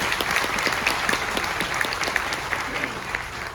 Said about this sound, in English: Give a round of applause back there.